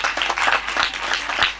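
A brief burst of crowd clapping welcomes guests at a Women Rights Day seminar in Khanewal. The applause is uneven and moderately loud.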